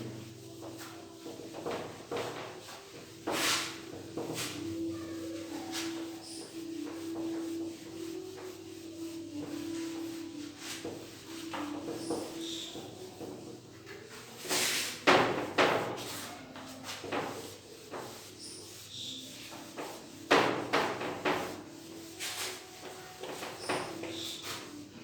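A duster rubbing writing off a classroom board, with intermittent scrubbing and sliding strokes in bursts, fairly close, between pauses.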